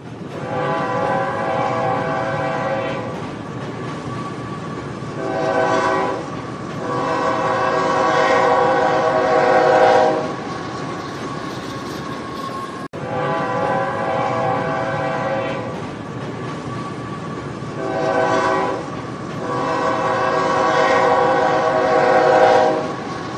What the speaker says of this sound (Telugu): Garib Rath super fast express 1వ నంబరు ప్లాట్ఫామ్ నుండి బయలుదేరుటకు సిద్ధంగా ఉన్నది